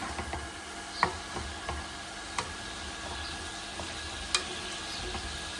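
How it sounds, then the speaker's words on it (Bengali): Egg being stirred into potato and pointed gourd bhaji in a frying pan, giving a soft steady sizzle with a few light spatula taps and scrapes spread through the clip. "এখন দিয়ে দেব ডিম ডিমটা দিয়ে একটু নেড়ে দেবো"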